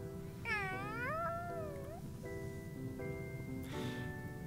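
A cat meows in the Tales of Xillia 2 video game, a clear series of rising and falling meows near the start followed by steady tonal game music, with no talk.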